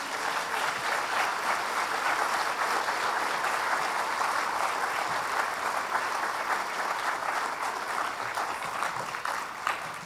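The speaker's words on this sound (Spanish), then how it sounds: "¿Puede darle un aplauso al Señor?" Sustained applause from a church congregation honoring the Lord during a Spanish-language sermon on family abuse, a dense steady wash of many hands clapping close and loud for the full stretch with no talk over it.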